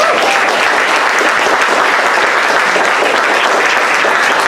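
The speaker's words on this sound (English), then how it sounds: "I'm about to say a statement and then you are going to applaud again." Loud, dense audience applause fills a live literary event with Saeed Jones, a steady roar of many hands clapping at once, sustained without pause for several seconds.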